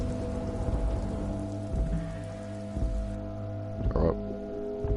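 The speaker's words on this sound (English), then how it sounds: "It's raining? Is it always raining?" Steady rain in the video game Disco Elysium patters continuously over a low, sustained musical hum, with a few soft thuds and brief rustles along the way.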